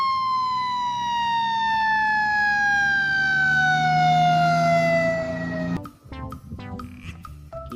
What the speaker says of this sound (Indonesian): ternyata yang ini adalah mainan si mobil damkar yang membawa tangga